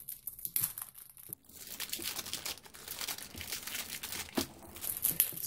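Plastic wrapping around a cube box crinkled by hand, close crackling and rustling in uneven bursts with a brief pause.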